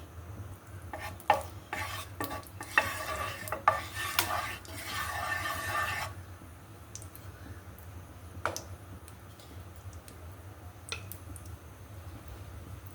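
A spoonful of ghee heating in a pan before semolina is fried, with a spoon stirring and knocking against the metal in a busy burst of clinks and sizzle, then a quieter hiss with scattered taps.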